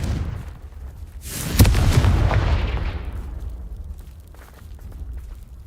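A Confringo fire spell explodes in the video game Hogwarts Legacy, a sudden loud boom that swells, then rumbles and decays over several seconds, with soft footsteps before and after.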